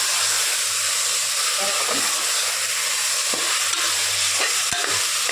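Chicken frying in masala paste, a constant loud sizzle with scraping strokes of a spoon stirring through the pan.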